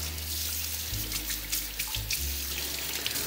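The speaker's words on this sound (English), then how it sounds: "I'm gonna wash my hands real quick." Tap water running into a kitchen sink during hand washing, a steady close splashing stream with brief shifts as hands move under the flow, and no talking.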